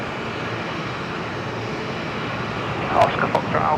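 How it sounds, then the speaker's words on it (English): A Velocity Boeing 737-800 rolls for takeoff at Brisbane Airport, a steady broad engine roar heard from a distance, with a couple of brief sharper sounds near the end. "Velocity 708 going down to Hobart in Tasmania. They're just rolling, actually."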